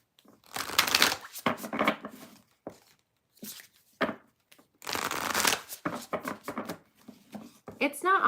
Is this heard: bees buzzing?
no